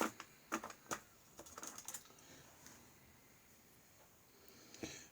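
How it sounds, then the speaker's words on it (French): Small scissors snip a tuft of deer hair at close range in a cluster of quick, crisp clicks, followed by near silence and one last faint snip. "Mes petits ciseaux."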